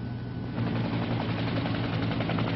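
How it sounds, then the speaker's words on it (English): A television news camera helicopter passes over a military crash site, its rotor giving a steady, loud, continuous chopping roar throughout with no voices. "a television news camera helicopter overflew the crash site"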